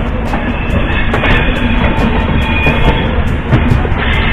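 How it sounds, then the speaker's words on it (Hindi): The Amb Andaura Weekly Express train runs at speed, a loud steady rumble with rhythmic clickety-clack of wheels over rail joints, heard from on board. "अंदौरा वीकली एक्सप्रेस ट्रेन नई दिल्ली पहुंचते"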